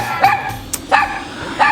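A dog barks close and loud, three sharp barks spaced roughly evenly across a couple of seconds, with a brief short sound between them.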